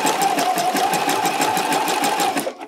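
A sewing machine runs steadily at close range, stitching fold-over elastic onto a bralette neckline with a fast, even mechanical whir and needle patter that stops abruptly at the end.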